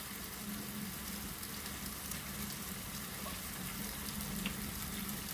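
Kefta fries with onion in oil, a soft, even, continuous sizzle with a faint bubbling hiss, steady and fairly quiet throughout.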